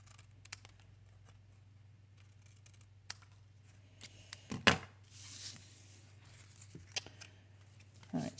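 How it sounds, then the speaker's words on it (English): Scissors snip through paper during a card-making craft session, giving a few faint, scattered cuts over a steady low hum, with a louder burst near the middle and another at the end. "I find it easier just to use scissors"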